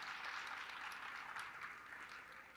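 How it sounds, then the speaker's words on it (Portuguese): An audience at an early childhood education panel claps in sustained, faint, distant applause. "Palmas para a Rita também"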